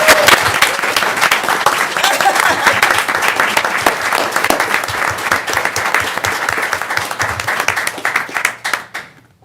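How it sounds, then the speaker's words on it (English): Sustained, loud audience applause in a session chamber honouring community supporters, a dense wash of many hands clapping nearby that fades out at the very end. "Everybody give them a round of applause."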